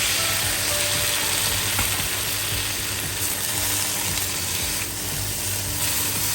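Chopped tomatoes frying in a pan for a Filipino shrimp and saluyot dish, giving a steady, dense sizzle with faint clicks of stirring throughout, close and fairly loud.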